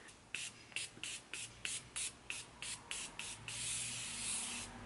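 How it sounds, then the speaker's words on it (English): Morphe setting mist sprayed onto a made-up face in a quick burst of about a dozen short, evenly spaced spritzes, each a crisp airy hiss, then a softer continuous hiss at the end; close and clear, with no talking. "I'm going to use my Morphe setting mist to pretty much keep this whole makeup in"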